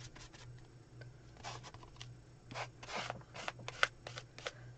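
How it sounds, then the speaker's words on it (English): Paint is scraped across a paper page in a mixed media piece, giving soft, intermittent rasping strokes that come close and fairly quiet. "So I just kind of scraped through all the colors onto the page."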